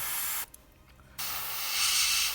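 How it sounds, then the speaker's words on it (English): An airbrush loaded with Nickel green paint sprays in close, loud bursts of hissing air, cutting out briefly for a short pause before resuming and holding a steady spray. "now we have our Nickel green loaded on the cup of the airbrush"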